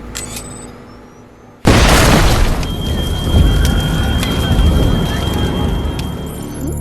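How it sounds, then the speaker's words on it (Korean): A bomb goes off in a science-fiction film about armed AI robots, a sudden loud blast followed by a sustained roaring, crackling rumble of debris that persists to the end. "다시 폭탄이 활성화되면서 볼로는 최후를 맞이합니다."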